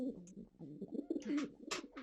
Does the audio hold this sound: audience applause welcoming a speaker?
no